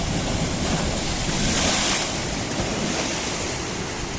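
Sea waves surging onto a shore close by, a broad continuous roar that swells and eases, with wind buffeting the microphone.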